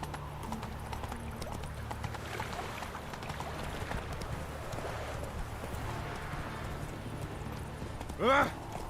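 A horse galloping in The Witcher, with a continuous rhythmic drum of hooves under game ambience, moderately loud, ending with a brief whinny-like cry near the end.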